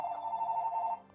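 A phone rings at a low, faint level during a Baldur's Gate: Descent into Avernus tabletop session, one steady electronic tone lasting about a second and then cutting off.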